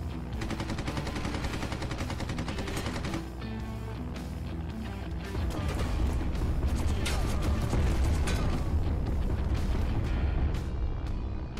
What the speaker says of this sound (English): I've got 20 more planes to take down, and I have to avoid the explosions